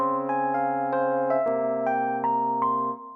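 Keyboard plays the intro of the song: a sustained chord with a bright melody of evenly spaced notes stepping above it, clear and close, alone for about three seconds before fading out.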